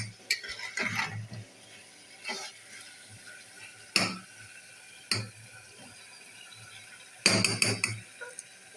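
A spoon clatters and scrapes against a cooking pot while goat liver curry is stirred, in several short bursts of metallic clinks separated by quiet pauses, close by and without talk.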